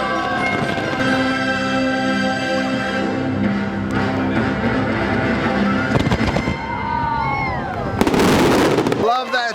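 Fireworks at Epcot's nighttime show: sustained tonal sound with crowd noise and voices underneath, then a sudden loud, crackling burst near the end.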